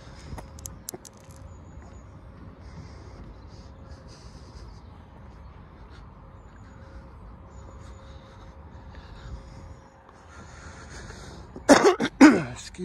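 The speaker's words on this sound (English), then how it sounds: "that smoker's cough goes with the territory because I'm a smoker" Smoker's cough outdoors at a garden and home center, a short burst of harsh coughs near the end after a long stretch of quiet ambient background.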